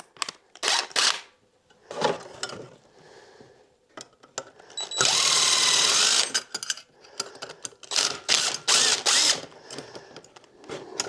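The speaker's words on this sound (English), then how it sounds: "Just need a longer drill bit." A power drill fitted with a long bit runs in a loud sustained burst of about a second during cabin work, with shorter whirring bursts and handling noise before and after.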